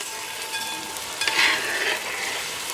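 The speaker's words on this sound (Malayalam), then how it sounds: "നമ്മൾ അടിച്ച് വെച്ചിട്ടുള്ള ഇഞ്ചി പച്ചമുളക് പേസ്റ്റ് അതിനകത്തേക്ക് നമ്മൾ പതുക്കെ ഇടണം. അത് നമ്മൾ ചെറുതായിട്ടൊന്ന് ഇളക്കി കൊടുക്കണം." Ginger and green chili paste for mango pickle sizzles steadily in hot oil, with a brief burst of louder crackling and scraping as it is stirred around the pan midway through.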